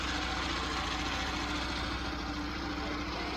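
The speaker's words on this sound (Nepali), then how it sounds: "यहाँ तलतिर चाहिँ एकदम मजाले ट्र्याक्टरले खेत जोतिरहनु भएको छ भाइले।" A tractor ploughing a farm field, its engine a steady low rumble with a regular throb, running continuously and fairly close with no talk over it.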